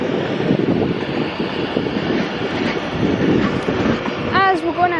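A Class 390 Pendolino electric train rolls past the platform at Crewe station with a rumbling, rushing pass that ends in a short rising whine, while voices murmur nearby.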